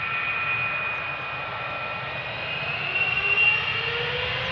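An Air Canada Boeing 777-300ER, flight 809 to Toronto, passes at Amsterdam Schiphol with a steady jet roar and a thin high engine whine, swelling briefly toward the end.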